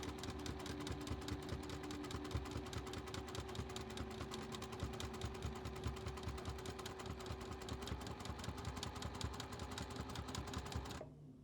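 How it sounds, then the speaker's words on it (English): A sewing machine runs a steady rapid needle rhythm while free-motion quilting a meandering stitch across a quilt, a fairly quiet, even mechanical chatter that continues alone until it stops near the end. "I'm just doing a meandering stitch here, which is just basically I'm just wandering all over the quilt."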